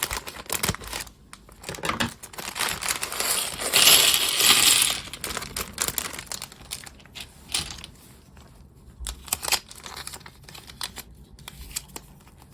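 Small LEGO Star Wars set packaging is cut open and handled, producing close, intermittent crinkling, clicking and tearing sounds with a louder rustling burst partway through, and no talking.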